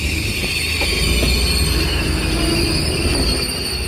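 A suburban diesel railcar train passes close by, its wheels squealing and rumbling in a loud, steady rolling roar with faint rhythmic clicks over the rails and no voices.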